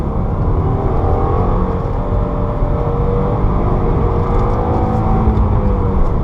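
A 2015 Subaru WRX with a manual gearbox pulls hard in second gear on a race track, its engine a loud, sustained drone with a rising tone, heard from inside the car.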